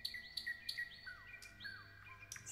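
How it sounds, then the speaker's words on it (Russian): Nightingale and other small birds singing in a spring forest, with repeated bright chirps, trills and downward-sliding whistles close by over a quiet background. "в этом лесу поет соловей, щебечут другие птицы"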